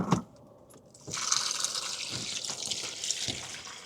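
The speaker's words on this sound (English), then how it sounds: "Now I'm just gonna fill up my bucket with water." Water gushes into a bucket from a tap, starting after a few clicks and faint clatter, then a steady close-up splashing fill with small ripples, no speech.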